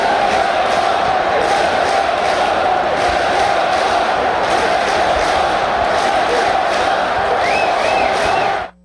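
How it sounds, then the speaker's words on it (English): Baseball crowd at PNC Park cheering loudly, a dense, sustained roar of many voices with whoops rising through it, continuous until an abrupt cutoff. "Listen to the crowd at PNC Park"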